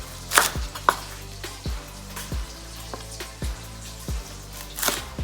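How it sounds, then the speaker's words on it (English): A knife chopping a cored cabbage on a cutting board, about eight sharp thuds in an uneven rhythm with crisp crunching leaves, close and clear, with no voices. "chop this however you like. I just like doing a rough chop"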